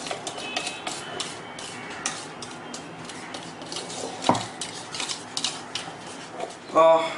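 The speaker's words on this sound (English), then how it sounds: "I'm going to stir it for another 1 or 2 minutes" A spoon stirs buttermilk batter in a bowl, giving a steady run of light scraping and clinking taps against the bowl with a louder knock near the end and no speech.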